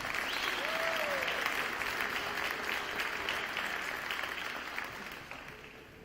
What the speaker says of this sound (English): let's give one more round of applause for our basketball seniors.